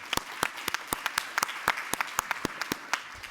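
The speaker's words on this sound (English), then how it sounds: "Josh should give them a round of applause for all the work they've done here" A small audience at a university panel discussion clapping for the event organizers, sparse individual claps spread unevenly across a few seconds, close and fairly quiet.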